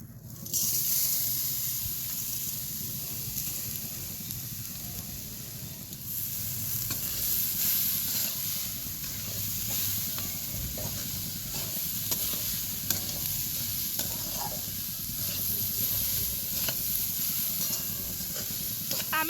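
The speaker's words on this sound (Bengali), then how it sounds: "আমি কড়াইয়ের মধ্যে চিনি মেশানো নারকেল কোড়াটা দেওয়ার পর ভালোভাবে নাড়াচাড়া করে নিয়েছি।" Sugared grated coconut sizzles and hisses in a hot wok while it is stirred, a steady close frying crackle with scraping strokes running throughout, no talking.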